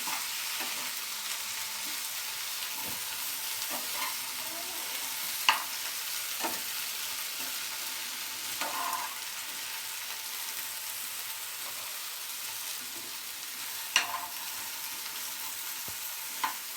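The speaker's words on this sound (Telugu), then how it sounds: "టమాటా, బంగాళదుంపలు, ఫ్లవరు ఈ 3 బాగా వేగిపోయినాయి నూనెలో" Cauliflower, potato and tomato pieces fry in hot oil for a home-style gobi vegetable curry, giving a steady, even sizzle throughout with a few sharp clicks of a spoon stirring against the pan.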